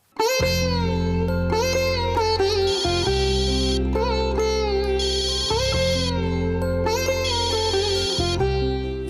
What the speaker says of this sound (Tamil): யாரு போன் பண்றாங்க?